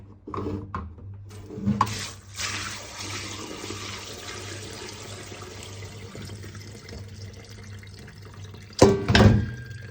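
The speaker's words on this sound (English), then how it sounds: "And wash until the slimy stuff comes off" Steady running water splashing through a strainer as cooked noodles are rinsed for several seconds, with a few clinks and louder splashes near the start and end.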